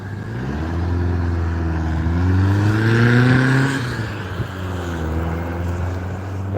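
Classic Ferrari sports cars at an outdoor car show in Elberta, Utah, engine rumbling and revving with a rising pitch in the middle, then settling back to a steady idle, close and fairly loud.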